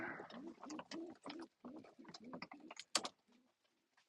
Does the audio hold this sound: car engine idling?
no